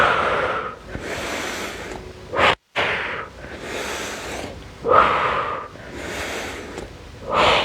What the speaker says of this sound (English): Inhale, breath, exhale across.